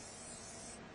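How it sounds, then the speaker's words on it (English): A can of cooking spray hisses in one steady, continuous burst into a casserole dish, close and even for about a second before easing off. "I'm going to spray my casserole dish."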